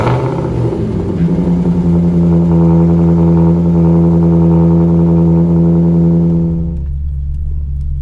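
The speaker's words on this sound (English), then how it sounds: "demonstrate my favorite part of this car, the cold start" An old Maserati car engine cold-starting: a loud, steady high-idle rumble with strong low harmonics holds close by for about seven seconds, then the revs drop to a lower, quieter idle near the end.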